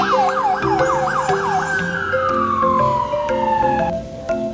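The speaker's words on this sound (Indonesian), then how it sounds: "Wow, ini mobil ambulans." A toy ambulance gives off a loud, close electronic siren, first warbling quickly up and down, then sliding into one long falling wail that cuts off near the end.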